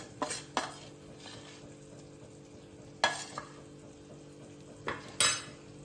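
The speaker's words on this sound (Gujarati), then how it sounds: "લોટ નાખીને પછી આવી રીતે આપણે એને મિક્સ કરી દેવાનું બધું." Gram flour being stirred into buttermilk for kadhi, with a few sharp utensil clinks against the pot over a low steady background, close and moderately loud, and no talking.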